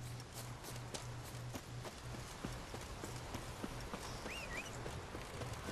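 A horse walking in The Witcher 3 video game, hooves clip-clopping in a steady, fairly faint rhythm over a rain-like background hiss.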